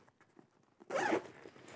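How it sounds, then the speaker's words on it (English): A single quick zip rasps closed on the carrying case of a GVM 832 LED light panel, up close after a moment of faint rustling, sharp and brief, then fades to quiet handling noise. "Zipper this bad boy closed."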